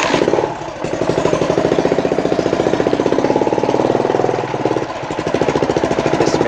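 A motorcycle engine runs close by with a rapid, steady pulsing chug, holding an even rhythm with a brief dip partway through, loud and alone.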